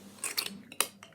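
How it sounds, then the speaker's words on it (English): A spoon scrapes and clinks against a pot while mushing aloe vera, a few short bright metallic taps and scrapes close by in quick succession, quiet and alone. "you want to grab your spoon and you want to just mush it"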